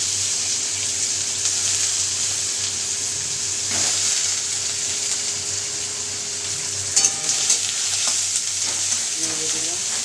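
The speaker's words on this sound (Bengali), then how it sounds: "পেঁয়াজ আর রসুনটা হালকা ভাজা এসেছে" Onion and garlic frying with black cumin seeds in mustard oil, giving a close, continuous sizzle with occasional scrapes and knocks of a spoon stirring the pan, with no talk.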